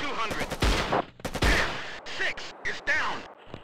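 Dragunov sniper rifle firing in Operation Flashpoint: Resistance, several sharp loud cracks spaced irregularly with short echoing tails, close to the listener and with no talk over them.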